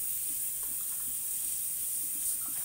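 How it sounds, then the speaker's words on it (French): Clean water poured over fish in a kitchen to rinse it, making a steady, even rushing hiss like a running tap, close and constant throughout with no pauses. "Je vais mettre de l'eau claire"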